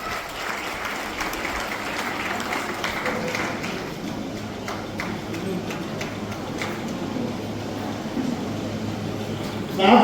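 An audience at a Rautiya youth gathering in Jashpur claps their hands together in sustained, steady applause for about ten seconds, a dense wash of clapping with faint voices mixed underneath.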